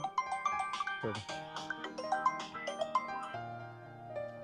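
A melodic phone ringtone plays a quick tinkling tune of bright notes, moderately faint, continuing steadily.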